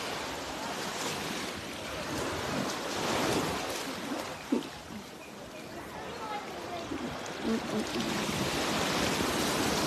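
Calm sea waves wash steadily onto a sandy beach, a continuous hiss of surf mixed with wind buffeting the microphone, with voices faintly in the background.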